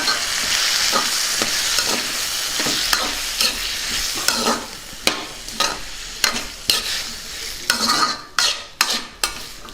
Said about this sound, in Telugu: ముందుగా వేగుతున్న పోపులో టమాటా ముక్కల్ని వేసేసుకుందాం.